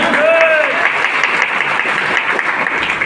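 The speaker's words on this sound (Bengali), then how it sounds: "জোরে একটা হাত তালি চাই" Audience at a nutrition therapy talk in a party center hall clapping loudly together, a dense, continuous burst of applause with a few shouts near the start.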